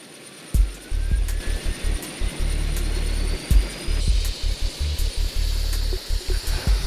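Helicopter flying over Seoul, a steady loud rotor and engine roar close by, with repeated thumping bursts and a rising whine over the continuous drone.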